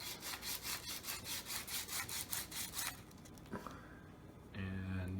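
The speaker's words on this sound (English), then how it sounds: "take your tiny little cylinder piece and you sand it a little bit." A small cylinder piece for a model rocket being sanded by hand, heard as a steady run of rapid, close rhythmic rasping strokes that stops partway through, followed by quieter handling noises and a low hum.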